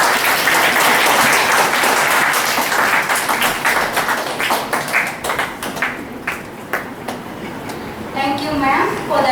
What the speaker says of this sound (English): Let us welcome her with huge round of applause